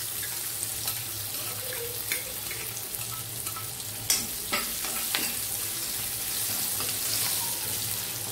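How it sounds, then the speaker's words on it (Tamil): Hot oil sizzles steadily in a pan as mustard seeds splutter with scattered sharp pops and crackles, close and fairly quiet, while cooking a Chettinad brinjal gravy. "இப்ப கடுகு பொரியுதுங்க."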